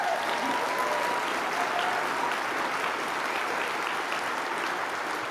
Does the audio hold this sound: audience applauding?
yes